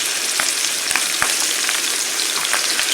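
Peppers and onions frying in a pan for a Philly cheesesteak give a steady, close sizzle with scattered small pops and clicks throughout. No voices are heard.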